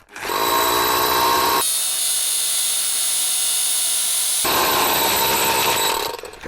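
A rotary hammer drill runs loud and close, drilling a 28 mm hole, a harsh whine with a hammering rattle, briefly easing to a smoother high whine in the middle.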